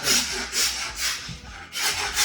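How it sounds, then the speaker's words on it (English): A worker scrapes an apartment wall in steady back-and-forth strokes, four or five rhythmic rasping passes close by, with no talking. "he's hard at work. He's scraping away."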